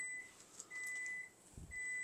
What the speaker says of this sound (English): you hear that beep, beep, beep?